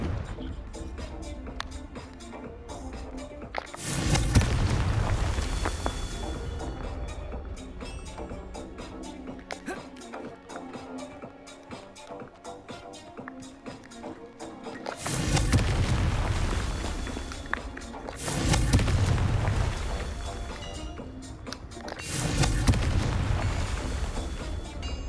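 Confringo blasting spell explosions in Hogwarts Legacy, several loud booming bursts spaced seconds apart, each swelling into a rumbling roar then fading into quieter background sound.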